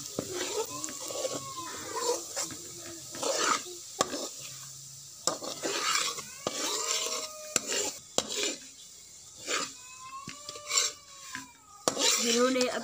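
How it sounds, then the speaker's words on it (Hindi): A spoon scrapes and stirs semolina as it roasts in a pan for halwa, with repeated close rubbing and clinking strokes separated by brief pauses. "आपने इसको इस तरह भूनने तक हिलाते जाना है।"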